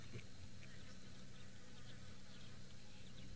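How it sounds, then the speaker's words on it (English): Mosquitoes and other biting insects buzz at dusk on a safari, a dense, steady high whine that hangs close and unbroken throughout with no voices. "Start hearing the mosquitoes."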